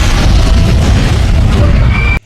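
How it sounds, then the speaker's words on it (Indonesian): A loud, booming explosion rolls on as a dense, sustained roar with heavy low rumble, then cuts off abruptly. "dan benar saja ledakan pun terjadi"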